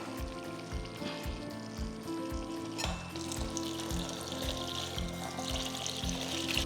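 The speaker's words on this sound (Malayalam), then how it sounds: "ഇനി നമുക്ക് ഇതിനകത്തേക്ക് പാലൊഴിക്കാം" Milk pours into a pot of cooking sago for pineapple payasam, a steady liquid stream over a rhythmic sizzling and bubbling, close and fairly quiet.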